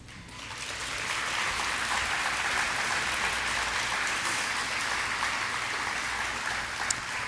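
An elementary school awards ceremony audience claps for a Christian Character Award winner, the applause swelling quickly and holding steady and full for several seconds before a final louder clap.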